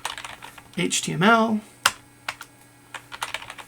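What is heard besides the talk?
typing code on a computer keyboard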